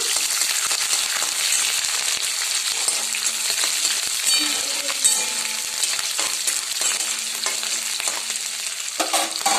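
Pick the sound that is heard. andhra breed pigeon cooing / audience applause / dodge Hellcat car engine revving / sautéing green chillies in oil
sautéing green chillies in oil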